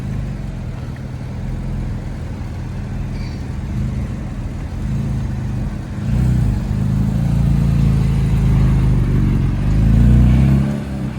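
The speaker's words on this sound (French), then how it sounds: "Et c'est la voiture de Fernando Alonso. Petite Spider RS jaune." A yellow Spider RS sports car rolls past on a Monaco street, its engine a low, steady rumble that swells and recedes, with a second louder surge near the end, with no talk over it.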